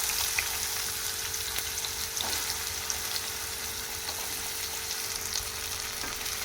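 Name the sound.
spine gourd pieces frying in oil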